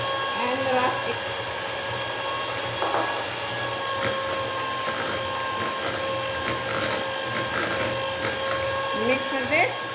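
Cake batter for a lemon blueberry yogurt cake being mixed after the eggs go in, a continuous whirring electric mixer hum with faint scraping and knocks throughout.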